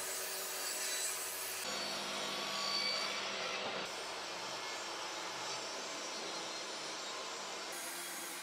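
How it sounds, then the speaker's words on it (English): A table saw rips through rough pallet wood timber, giving a steady, loud whirring cut with a brief shift in tone partway through, then the blade keeps running on its own. "That side is now going to be run against the table saw fence, which is going to clean up the opposite side."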